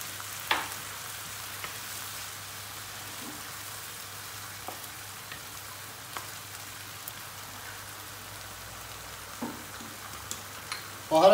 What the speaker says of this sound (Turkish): Hemen domates biberi ilave ediyoruz. Bunları da güzelce bir soteleyelim.